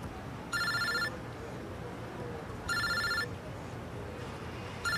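A telephone rings in two-part bursts, sounding three times at regular intervals over a steady low background hum, with no talking.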